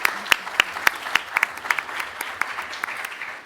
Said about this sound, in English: can I ask you please for a round of applause for our panel